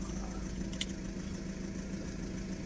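An Audi car engine idles steadily after being started, a low continuous hum with a faint brief click partway through, close and unbroken, no talking.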